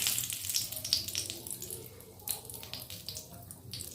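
Bay leaves frying in oil in a kadai for a dal tempering give off a soft, uneven crackle and light sizzle with small pops, fairly quiet and close.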